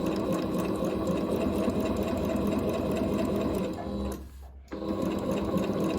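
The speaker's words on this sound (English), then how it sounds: "I'm just stitching on the pocket side of the seam" A sewing machine stitches a pant seam on a shirred waist pant, running at a steady, fast, close-up whir, pausing briefly near the end before starting again.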